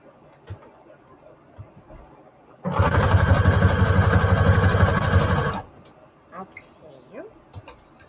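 A home sewing machine runs a zigzag stitch across fabric scraps for a junk journal tag, a steady, loud motor whir lasting about three seconds between quieter clicks and handling noises.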